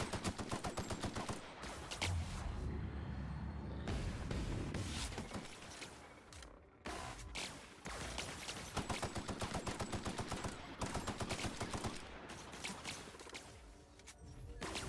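Rapid gunfire aimed at the player in a video game, dense bursts of sharp cracks repeating through most of the stretch with brief lulls, loud and close.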